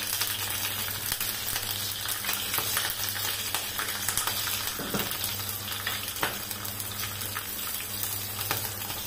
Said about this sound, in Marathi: तर आता हे खडे मसाले टाकून घ्यायचे त्याच्यात